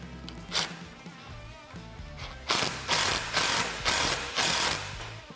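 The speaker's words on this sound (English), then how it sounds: "we need to fully tighten them as well at this point" Ratchet wrench tightening Allen head screws on a Polaris RZR Pro XP cargo rack, close and clear: a few scattered clicks, then five rhythmic bursts of rapid ratcheting, each about half a second long.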